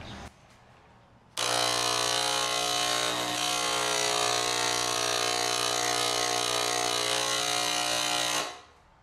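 A cheap $20 electric paint spray gun spraying, a loud steady motorized buzz with a strong droning hum that starts abruptly, holds for about seven seconds and then fades out.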